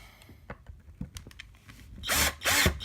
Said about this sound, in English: Now I'm screwing the plate down using the screws that came with it.